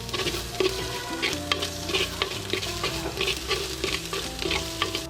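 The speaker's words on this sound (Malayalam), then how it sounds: "ഇനി ഇതൊന്ന് നല്ലോണം ഇളക്കി കൊടുക്കാം" A utensil stirs and scrapes through sizzling kadai chicken masala spices in a hot pan, steady frying crackle with repeated clinks and scrapes throughout.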